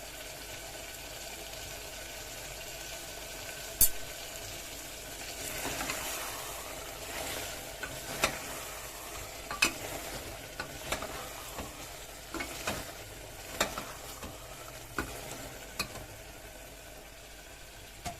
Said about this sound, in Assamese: দেখিছেনে আলু দিয়াৰ পিছত মাংসখিনি ভাজা হৈ গৈছে প্ৰায়